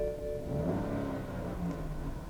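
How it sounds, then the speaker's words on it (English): A 2011 BMW 5 Series engine idles steadily with a low, even rumble and a faint rising rev partway through, close by and continuous. "Listen to that engine."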